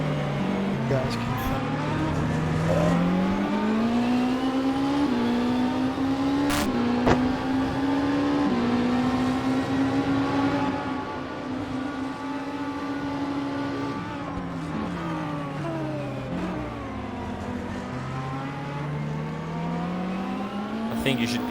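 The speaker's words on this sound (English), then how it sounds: "I don't know if you can hear this very well with the engine sound now." A race car engine drones loud and continuously through the 2020 6 Hours of Daytona, its pitch climbing and dropping with gear shifts and throttle changes over the full stretch.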